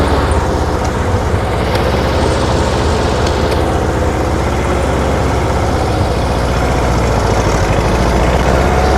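A Ford N-series farm tractor engine runs steadily on a test drive after a hydraulic repair, with a loud, close, continuous low rumble throughout and no talking.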